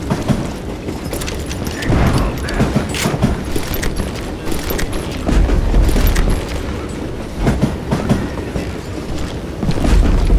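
A train rolling fast along tracks in the Call of Juarez Gunslinger video game, with a continuous loud rumble, rattling clatter and occasional heavy thumps throughout.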